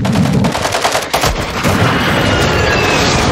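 An artillery strike called in during a Modern Warfare 3 battle: a loud, dense, continuous barrage of rapid gunfire and heavy blasts close by, filling the scene without pause.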